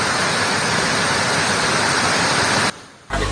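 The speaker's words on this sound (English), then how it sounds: "Sluice gates of the Kasalri Reservoir have been opened owing to the downpours experienced in the Central Hills" Water roars through the opened sluice gates of the Kasalri Reservoir after heavy downpours in the Central Hills, a loud, steady broadband rush that drops away briefly near the end before returning.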